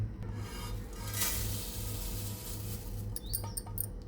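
Fried poha scraped from a pan onto a plate, a dry, busy scratching and rustling of flakes against metal, close and steady, with a few sharper clinks of the utensil near the end.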